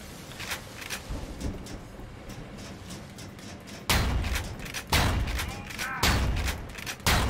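Gunfire and grenade-launcher explosions in the retro shooter Ion Fury, dense bursts of shots with heavy booming blasts kicking in around the midpoint and repeating every second or so, loud and close.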